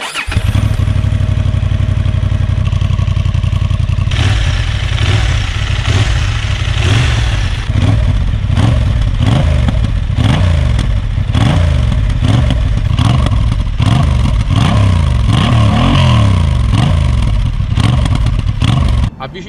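A 2023 Honda CB750 Hornet on its stock Euro 5 exhaust, ridden with loud, close engine sound that revs up and down repeatedly through gear changes across the whole stretch.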